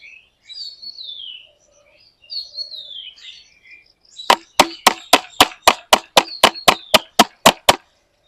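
Birds chirp and call in short warbling phrases, then a rapid run of sharp, evenly spaced knocks or chirps takes over near and clear.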